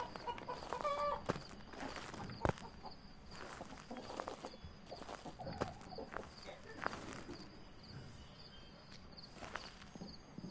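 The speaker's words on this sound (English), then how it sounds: "and some chickens in there as well" Chickens cluck and shuffle inside a coop in the video game Phasmophobia, with soft scattered clucks and light footstep-like taps under a steady faint background hiss.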